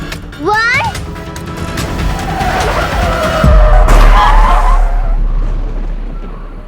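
A car brakes sharply and skids to a halt, tires squealing loudly over a rumbling engine, followed by a low heavy thump and rumble as it settles to a stop.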